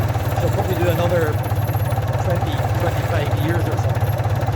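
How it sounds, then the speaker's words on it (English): A Gardner 4LK diesel engine idles steadily on all four cylinders, a continuous, fairly loud mid-pitched throb with an even pulse throughout, while someone talks over it. "this is a lovely wee running engine. She's running on all four."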